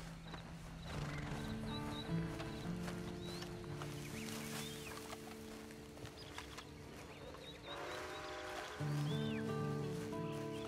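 Horse hooves clop and a horse whinnies in the Red Dead Online video game, moderately quiet beneath sustained game music.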